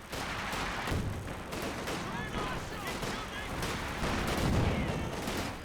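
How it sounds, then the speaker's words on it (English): Heavy machine gun fire rattles through a Company of Heroes 2 battle amid booming artillery and scattered shots, a steady, dense wall of combat noise with a soldier's voice calling out over it. "One of our fighting positions is sustaining fire."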